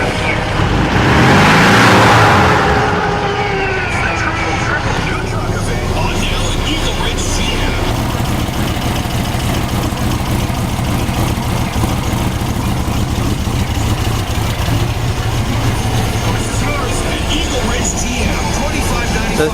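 A DIY fuel-injected dune buggy engine runs steadily while warming up with cold enrichment on, a constant droning hum at close range, with a louder rushing swell near the start.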